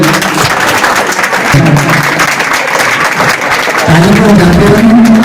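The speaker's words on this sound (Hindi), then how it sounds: "ताली बजाते रहिए आप लोग इनके लिए।" Audience claps steadily and loudly for newly honoured computer-class students at a school award ceremony, a continuous dense patter with a low voice murmuring underneath at times.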